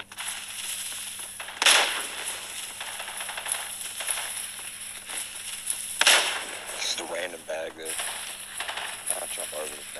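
Gunfire in the shooter game Arena Breakout comes as a few sharp cracks spaced several seconds apart over a continuous rumbling game ambience, moderately distant.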